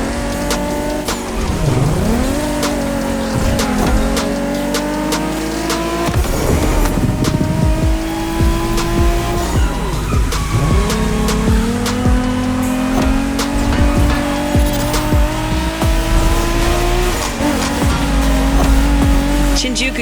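A Toyota Supra in The Crew Motorfest drives with a sustained engine drone that rises and falls through gear changes, and tire squeals break through repeatedly, loud and continuous, with voices talking over it.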